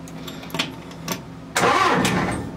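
A 1968 International Scout engine cranks with a few weak turns, then catches and fires into a loud, rough run close by.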